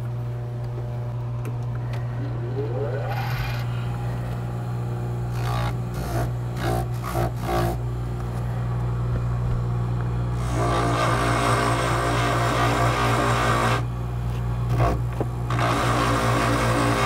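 A jewelry piece is polished on a polishing machine, worked in crisscross strokes: a steady motor hum runs throughout, with louder rough friction surges as the piece is pressed against the wheel. No one speaks.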